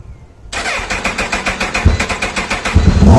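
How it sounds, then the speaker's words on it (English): A 1980 Yamaha XJ650 motorbike, jump-started from another bike's battery, cranks and fires up, with the starter whirring in rapid rhythmic pulses that build into a steady, loud engine running close by. "Don't get excited when you hear a bike start because I'm slaving it from my CBF"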